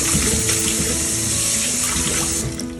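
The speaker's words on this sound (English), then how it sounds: "It's very important to wet your hands with super cold water." Cold water runs steadily from a kitchen tap as hands are wet before stretching and folding sourdough, a close, constant splashing hiss that eases off slightly near the end.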